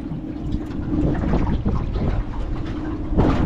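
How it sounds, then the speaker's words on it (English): Constant wind noise roaring and buffeting against the microphone on a small 12-foot aluminium fishing boat, low and heavy, with no voices, just the rushing gusts for a few seconds. "a bit of wind probably"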